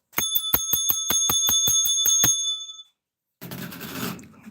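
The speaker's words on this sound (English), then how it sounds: "Where's my little bell?" A small hand bell rings in a rapid run of about a dozen bright, even dings, then stops. A short burst of rustling noise follows, and no one speaks.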